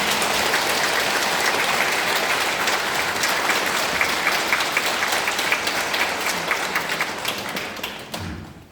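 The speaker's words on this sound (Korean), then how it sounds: "그래서 감사의 박수 한번 드리겠습니다." Congregation applauding in thanks during a Lenten lecture in a Catholic church, a dense steady clapping that holds for about eight seconds before tapering off and stopping.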